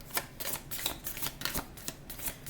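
Rapid papery riffling of oracle cards being shuffled, in repeated short bursts with a steady crisp rhythm, close to the microphone.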